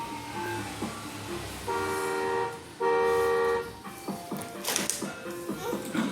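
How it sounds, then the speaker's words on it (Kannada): Two steady, bright honks from a Range Rover horn, each lasting just under a second with a short gap between them, loud and close against a noisy background. "ಹಾರ್ನ್ ಮಾಡಿ ಈಗ."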